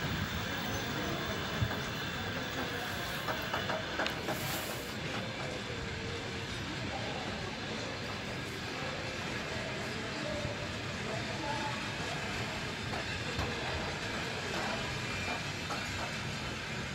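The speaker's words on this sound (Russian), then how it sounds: "Обычный скорый поезд. Старенький вагон Эмендорф." An old Ammendorf express train carriage on a long-distance Ukrainian route rumbles steadily from inside, with continuous wheel roar and occasional rail clacks and squeals.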